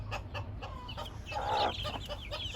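Gurk hens with their chicks cluck in short, repeated bursts close by, with a louder, longer call rising midway and soft peeping around it.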